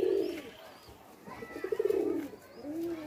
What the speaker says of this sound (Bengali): আমি আপনাদের আর একটা পায়রা দেখাচ্ছি দেখুন।